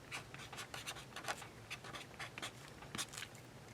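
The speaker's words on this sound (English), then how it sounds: "let me write on here because that might make it easier." Pen writing on the paper of a handmade Halloween flip-flop journal, a close, quiet scratching in short bursts of strokes with brief pauses, alone with no talk.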